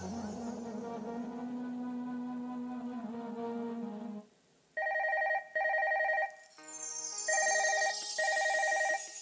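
A telephone rings in repeated electronic bursts, two rings, a pause, then two more, loud and alone after a stretch of music that fades out.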